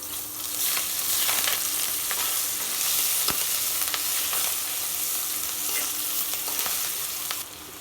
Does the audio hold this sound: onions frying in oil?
yes